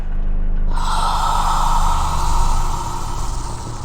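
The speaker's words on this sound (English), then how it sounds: "Every time I hear that breathing, I get shivers." Eerie, heavy monster breathing rasps through a secret level of the ULTRAKILL video game, a loud drawn-out gasp that swells, then trails off into softer, uneven breaths, with no talking.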